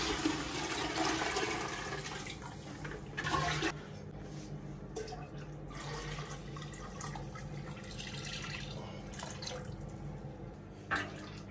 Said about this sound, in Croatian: E sad dodajemo vodu u izdinstano povrće.